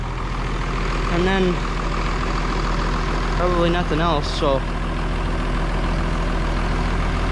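A farm tractor engine idles steadily nearby at haymaking time, a constant low rumble running throughout while someone talks over it.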